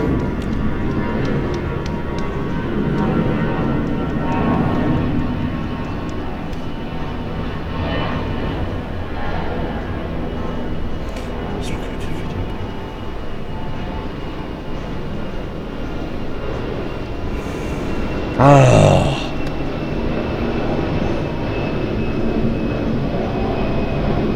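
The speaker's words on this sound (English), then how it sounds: "Darn airplane." A propeller airplane drones steadily overhead, a continuous low engine hum lasting throughout, with a brief sharp knock partway through.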